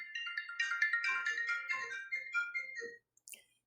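A phone ringtone plays a quick, bright electronic melody of rapid repeated notes for about three seconds, fairly faint and alone, then stops abruptly with one brief chirp after.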